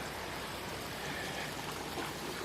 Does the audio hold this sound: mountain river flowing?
yes